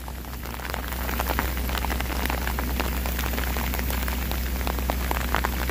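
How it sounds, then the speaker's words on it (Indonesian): Heavy rain during a storm on a mountain railway journey, pouring in a dense, steady roar with close spattering drops, continuous and loud with no talk over it. "Besar sekali hujannya"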